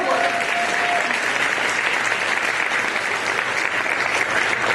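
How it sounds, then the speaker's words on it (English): An audience claps in sustained, dense applause for the servers in the room at an access-to-justice conference. The clapping is steady and loud throughout, with no voices rising above it. "let's give the servers in the room a round of applause for their work"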